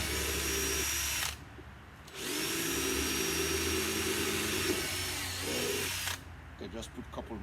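A power drill bores drainage holes in a plant pot, two sustained loud whirring bursts separated by a short pause, ending with a brief spin-down and faint handling noise.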